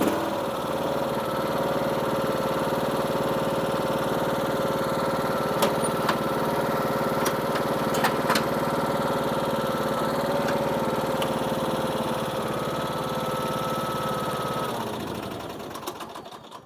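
A Husqvarna YTH 21 K46 riding mower engine runs at a loud, steady drone close by, with a few faint clicks, then winds down and cuts off near the end.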